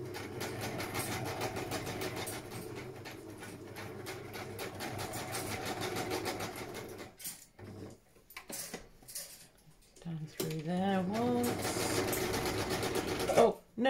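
A sewing machine stitches around a tag cut from a cereal box, a loud steady whirring hum for about seven seconds, then stopping and starting in short bursts while someone talks.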